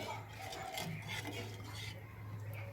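Water is stirred into masala in a cooking pot, with a quiet, continuous swirling scrape of a spoon against the metal and faint sizzling underneath.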